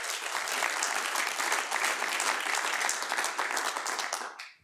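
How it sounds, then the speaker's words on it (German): Warm audience applause at a book presentation in Murau, dense and steady clapping for a few seconds before cutting off abruptly. "Einen großen Applaus."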